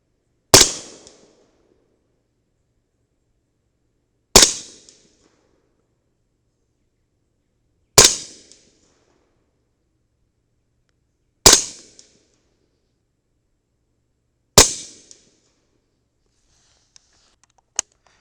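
Five loud, sharp gunshots from a 300 Blackout rifle with a CMMG 8-inch barrel firing 200 grain Sierra MatchKing handloads, spaced about three to four seconds apart, each ending in a short decaying echo outdoors.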